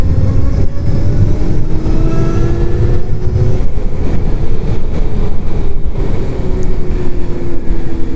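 A 2021 Zero DSR electric motorcycle is ridden at gentle throttle, its motor giving a faint whine that slowly rises and falls beneath heavy continuous wind rush, with no speech.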